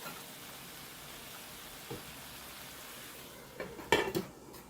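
Water poured into a hot pan of sweet potatoes, a faint sizzle building to a sharp clatter of a lid being set on, close and alone without talk.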